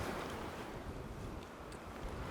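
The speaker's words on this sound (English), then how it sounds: "It's real windy. This is nice, just a nice coastal breeze." Strong coastal wind on a seaside walking trail buffets the microphone, a broad, rushing roar that stays loud and steady through the short stretch with no talk.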